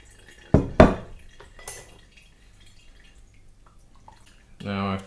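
Rhubarb wine juice gurgles briefly into a plastic brew bin at the very end, after a couple of clattering knocks of kitchenware and a stretch of near silence.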